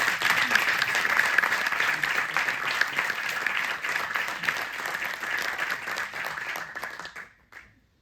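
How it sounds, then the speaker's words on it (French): Loud, sustained audience clapping at a film preview screening, dense and steady for about seven seconds before thinning out and stopping abruptly near the end. "Alors bravo Marie-Claire et bravo Marion, on peut les applaudir un petit peu."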